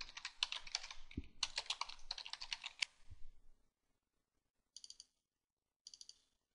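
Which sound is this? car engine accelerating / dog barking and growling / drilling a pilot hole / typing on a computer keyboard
typing on a computer keyboard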